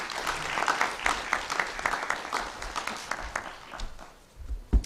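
An audience at a consumer protection forum on SIM card registration applauds a speaker, with sustained scattered hand clapping, moderately loud, tapering off near the end with a sharp thump.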